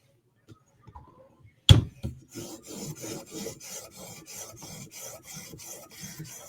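Repeated rasping strokes of a Spyderco Sage knife with REX 121 steel drawn across a 360 grit TSProf sharpening stone, a steady rhythmic series of close scraping passes following one sharp knock.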